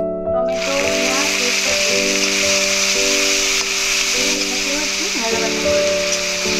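Ginger, garlic, tomato and onion frying in tempering oil give a steady hiss and sizzle close by, under a continuous tonal hum with periodic shifts.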